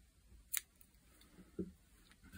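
Scissors snipping crochet yarn while finishing a small crocheted rose plant, two quiet close metallic snips about a second apart against a hushed background.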